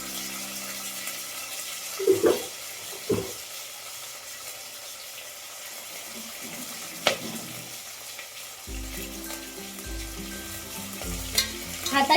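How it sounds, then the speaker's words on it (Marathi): Green chillies and curry leaves sautéing in oil with a constant sizzle, occasional stirring clanks of a spoon on the pan and a low hum underneath. "आता हे सगळं थोडंसं लाल होईपर्यंत छान असं परतून घ्यायचं आहे तेलामध्ये"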